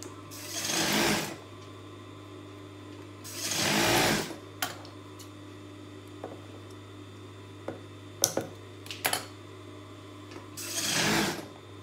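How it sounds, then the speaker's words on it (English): A sewing machine stitches polycotton down onto a dress bodice in three close whirring runs, early, midway and at the end, with small clicks and handling taps between them. "I'm just going to stitch the polycotton down on the bodice"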